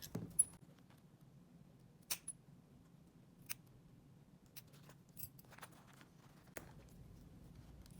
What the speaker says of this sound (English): Now we're going to trim off our excess from our zipper tails.